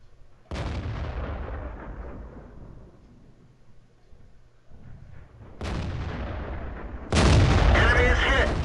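A Tiger P tier 7 German heavy tank in World of Tanks fires its cannon, with loud booming shots near the start, in the middle and late, each decaying into a rumbling tail, plus a final heavy impact blast.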